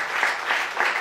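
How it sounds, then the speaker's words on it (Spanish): A church congregation claps along in praise, a steady rhythmic wash of many hands beating in even pulses, loud and with no voices on top. "Dele palmas al Señor."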